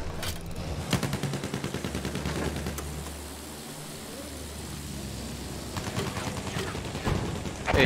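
Rapid anti-aircraft gunfire in a war video game, steady clattering bursts running through the whole stretch, loudest near the start and end, with a low engine rumble underneath.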